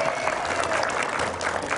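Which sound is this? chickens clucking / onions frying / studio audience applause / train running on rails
studio audience applause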